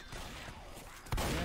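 Video game shooter gunfire, a low rumble of distant shots followed by one sharp, louder blast near the end of the short stretch.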